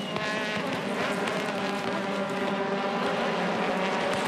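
Pack of Aussie Racing Cars series race cars at Winton racing in a 38-car field, a steady loud engine roar with layered whining notes as the mid-pack runs closely together.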